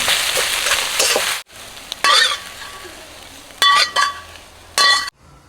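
Dried chillies stir-fried in hot oil in a wok: a steady loud sizzle for over a second, then quieter frying broken by several sharp bursts of spatula scraping and clinks against the pan, with no voices.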